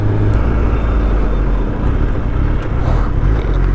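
A Kawasaki ZX10R cruises on a national highway leaving Kanyakumari in Tamil Nadu, giving a continuous, loud low engine drone mixed with rushing wind noise, with no talking.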